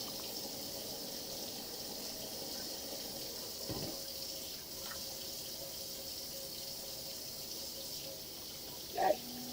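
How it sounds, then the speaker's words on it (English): Tap water runs steadily at a low, even level while hands are washed at a kitchen sink during cleaning and baking, with a brief louder splash near the end. "work on washing up our hands again"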